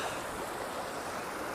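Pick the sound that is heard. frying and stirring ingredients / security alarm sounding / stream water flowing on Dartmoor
stream water flowing on Dartmoor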